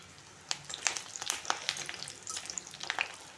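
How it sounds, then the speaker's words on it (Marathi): Curry leaves dropped into hot oil where chicken pieces are already frying for a chicken fry, giving a steady close sizzle with sharp crackles and spits that flare up repeatedly. No one speaks. "त्याच्यात मी कढीपत्त्याची 4 पानं टाकते."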